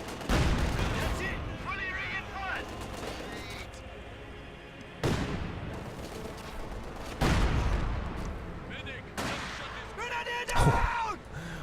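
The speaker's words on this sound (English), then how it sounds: "Katyusha taking shots" Katyusha rocket artillery in Company of Heroes 2 fires in several booming salvos spread across the stretch, loud and heavy with rumbling tails, while a commentator talks over the battle.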